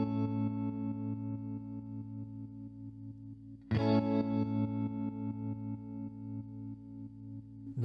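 Electric guitar through a MOOER tremolo pedal, sustained chords pulsing in an even rhythm of twos, with a fresh strum partway through restarting the steady volume throb; loud and close, no talking.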